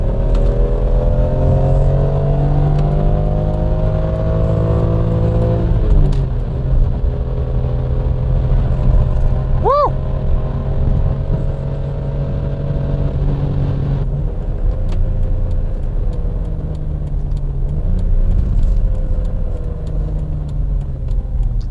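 Lamborghini Aventador V12 engine heard from inside, a loud, continuous droning roar with rising and falling pitch as it revs and shifts, steady throughout with no talking.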